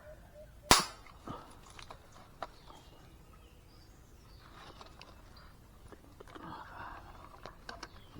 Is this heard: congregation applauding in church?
no